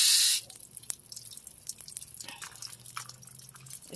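A garden hose spraying water onto succulent plants, heard as a steady, close watering hiss with light drips and splashes after a brief louder burst at the start.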